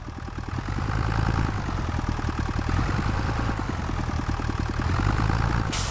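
A tractor engine in Farming Simulator 25 runs steadily with the throttle held open while in neutral, a continuous loud, even drone with a fast regular pulse and no speech.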